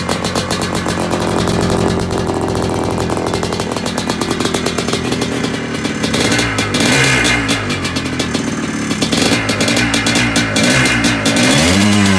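A motorcycle engine runs steadily and loudly up close, with clattering and revving swells toward the end, no talking.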